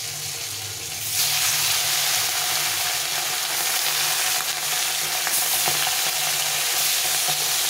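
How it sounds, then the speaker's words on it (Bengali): Small fish frying in hot oil, a loud steady sizzle that swells sharply after the first second and then crackles on without a break, close up, with no voices. "এখন আমি এই ছোটো মাছগুলো ভেজে নেব এই তেলে।"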